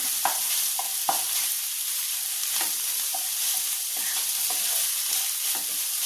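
Flattened rice being stirred into sautéed onions in a pan for aval upma, with a steady soft scraping and gentle sizzle, a few sharper spoon clicks against the pan; no talking.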